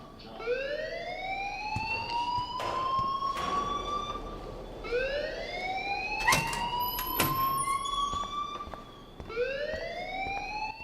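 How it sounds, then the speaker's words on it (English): An alarm siren in the video game Life is Strange wails in repeated rising sweeps, about three cycles, moderately loud with scattered background clicks and thumps. "please turn off that alarm since that's your job."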